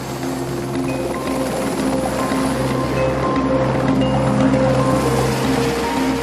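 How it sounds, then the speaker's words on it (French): Steady whirring drone of a helicopter in flight over Antarctica, constant and loud throughout, with a low rhythmic thrum and wind-like rushing. "C'est donc en hélicoptère que doit se faire le débarquement."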